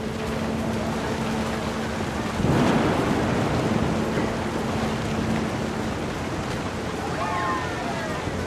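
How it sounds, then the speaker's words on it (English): Deep rolling thunder from a storm in the game What Remains of Edith Finch, set on a beach with steady rain and surf beneath, swelling into a louder crack midway before fading back into the constant wash. "The thunder sounded much too close and full of angry power"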